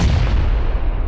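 A grenade explodes in PUBG, a loud, close, booming blast that fills the short moment with heavy low rumble and no speech.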